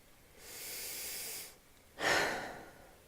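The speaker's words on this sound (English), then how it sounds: "take a big deep breath in through your nose and let it flow out your mouth" A person takes a deep breath in through the nose and then exhales through the mouth, a soft, close inhaled hiss lasting about a second followed by a brief pause and a stronger breathy exhale.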